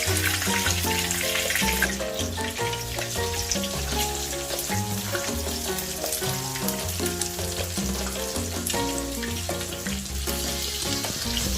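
Fish fillet pieces dredged in flour deep frying in hot oil, a loud, steady crackling sizzle that continues without pause and with no talking.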